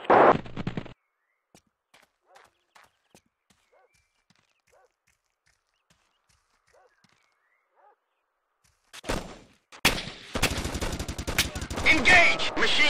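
Automatic gunfire from a machine gunner in the Arma Cold War Assault military shooter game, heavy bursts erupting near the end after near silence broken by faint footsteps and brief voices.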